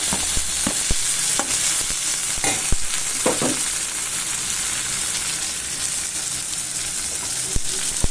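Onion and tomato sauté in a pan for chow chow kootu, giving a steady close sizzle broken by occasional clacks of stirring.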